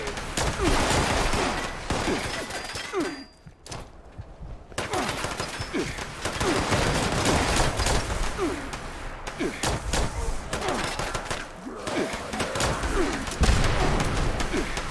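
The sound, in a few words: gunfire from the video game Fallout 76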